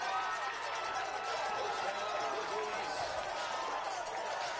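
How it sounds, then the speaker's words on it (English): A college football stadium crowd roaring steadily and wildly during a DIII game between Ohio Wesleyan and Franklin, a dense sustained wash of cheering filling the whole stretch. "Crowd going crazy."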